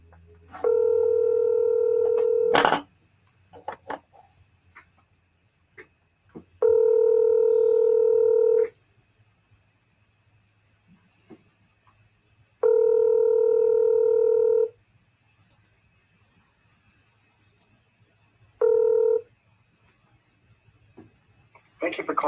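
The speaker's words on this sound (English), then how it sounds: "He's dialing now." Telephone keypad tones and ringing, four long steady tone bursts spaced several seconds apart with quiet gaps and a brief click between them.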